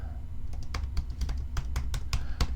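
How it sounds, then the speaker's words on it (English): Quiet typing on a computer keyboard, a run of about a dozen separate key taps in an irregular rhythm, close and soft with no talking. "I want to type in"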